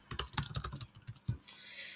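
Keys tapped rapidly on a computer keyboard during a software session, a close, irregular burst of clicks with a brief pause partway through, then a softer hiss trailing off.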